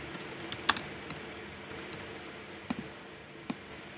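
Typing on a computer keyboard: scattered, light key clicks at an irregular pace, quiet and close, with no voices.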